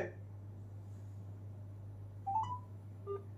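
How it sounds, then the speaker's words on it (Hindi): A BeatXP Flux smartwatch dial pad sounds a few short, clear beeping tones as a number is keyed in, in a quiet setting over a steady low hum. "डायल पैड के जरिए आप किसी भी नंबर को डायल करके कॉल कर सकते हो"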